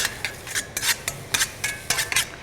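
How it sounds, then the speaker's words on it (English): Garlic stirred in a pan with a utensil, a quick series of scraping, clinking strokes in an irregular rhythm, close and moderately loud with a faint sizzle underneath. "Just gonna give it a quick stir."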